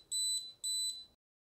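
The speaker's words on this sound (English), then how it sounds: "the mic will begin to beep after it has lost communication with the access point" A Shure Microflex wireless microphone sounds its out-of-range alert: two clean, high electronic beeps in quick succession, then silence.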